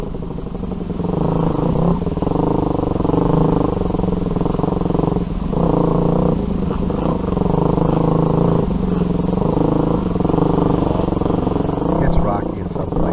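Several trail motorcycles, including a DRZ, ride together along a wide, rocky trail on a fine day, their engines droning steadily and close throughout with small surges, while speech is faintly present.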